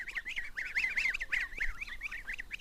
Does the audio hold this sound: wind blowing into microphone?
no